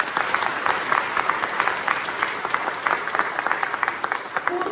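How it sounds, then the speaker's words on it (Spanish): A church congregation gives applause in honor of the mothers of the Dominican Republic, with brisk clapping from many hands that stays steady and moderately loud. "Queremos hacer un aplauso."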